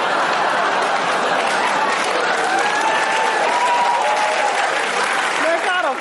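Studio audience applause fills the whole stretch, steady and loud, with scattered laughter and chatter mixed in and a voice speaking over it near the end.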